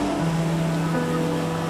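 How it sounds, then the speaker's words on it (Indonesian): Ocean waves rolling in from a distance toward the shore, a steady washing surf with a low sustained hum beneath it. "Ombak datang dari jauh sana menghampiri kamu di sini"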